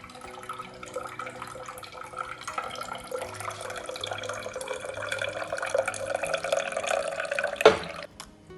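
Homemade ABC detox juice of apple, beetroot and carrot trickles and drips through a filter in a soft, continuous liquid patter, faint and close, ending with a brief louder splash.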